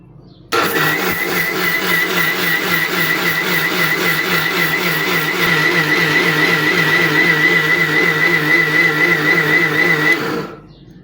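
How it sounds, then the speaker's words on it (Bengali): An electric blender grinds soaked rice with water, onion, chili and coriander, a loud steady motor whir with a rhythmic churning pulse running continuously for about ten seconds before cutting off. "ব্লেন্ডারটা করে নিচ্ছি।"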